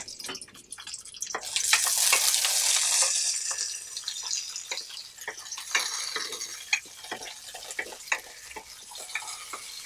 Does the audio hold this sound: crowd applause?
no